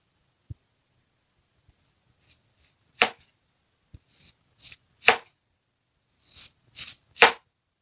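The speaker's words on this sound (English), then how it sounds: "we have to slice this in a round or just like a onion ring" Knife slicing an onion into rings on a board: a sequence of crisp, sharp chops arriving irregularly, some pairs closely spaced, each a short bright crunch with quiet gaps between, close and clear with no voices.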